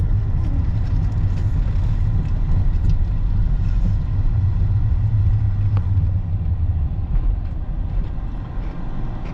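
A car drives through the streets of Dearborn, Michigan, with a steady low road rumble and engine drone heard from inside the cabin, continuous and fairly loud throughout.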